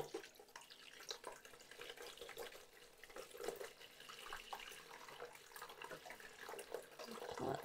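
Solar-dyed fabric is rinsed under a running tap, giving a faint, steady splash and trickle of water throughout.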